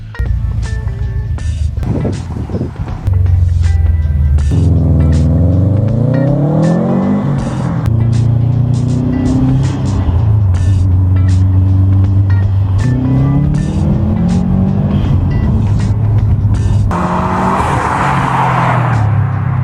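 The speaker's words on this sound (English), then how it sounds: "The car turns on, and now we're going to go drive it." A tuned car fitted with a Cobb Accessport drives off, its engine revving up and down in loud, close sweeps through the gears, with a harsher burst of noise near the end.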